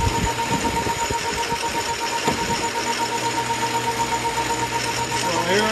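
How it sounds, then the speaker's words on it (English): A metal lathe hums with a steady mechanical drone and rhythmic whirring as the tailstock drive feeds an annular cutter into metal, with a pulley turning, in a workshop. "here I take about a half a turn on this lathe on the tailstock drive there and the pulley"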